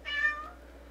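A house cat lets out a single clear meow, short and nearby, fading into a quiet room with no talking.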